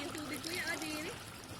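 Water flowing from a hose onto a slide at a mountainside resort, a faint, soft trickle and splash heard briefly under a nearby voice talking.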